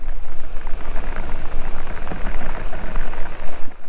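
Rain falls at a temple in Bisle Ghat, a loud, close, broadband rushing hiss with gusty low rumbling swells throughout.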